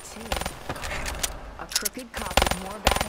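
Gunfire in a zombie shooter game, sharp rattling bursts of rapid shots coming in clusters at close range, mixed with metallic clinks, while people talk over it.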